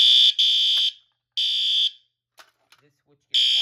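Fire alarm from a pull-switch alarm system rings in loud, steady bursts that stop and restart, with brief clicks and faint sounds in the gaps.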